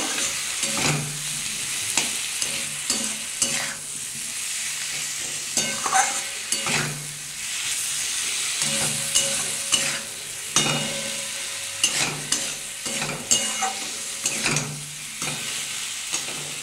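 Rohu fish pieces with broccoli and potato, seasoned with salt and a little sugar, sauté in a pan: a steady sizzle under repeated scraping strokes of a spatula, close and fairly loud, with no talking.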